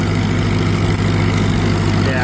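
A repaired tractor engine drives in second gear, giving a loud, steady, low droning rumble with even harmonics and no breaks for the whole stretch.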